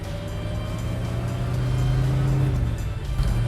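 A muscle car engine with a stainless steel exhaust runs steadily, a near, continuous throaty rumble with a sharper, hollow tone and slight swells in revs.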